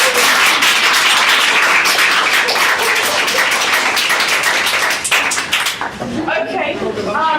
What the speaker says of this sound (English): Just a big round of applause for the performance